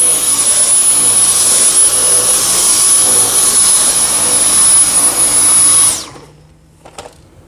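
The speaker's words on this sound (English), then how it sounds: "You can see how that cleaner head is getting right down into the carpet, spreading out those fibers, and digging deep down to the base of the carpet" A Dyson V10 Motorhead cordless vacuum whines at a loud, high pitch while cleaning carpeted stairs, running steadily and close, then cuts off abruptly, leaving near silence with a couple of faint knocks.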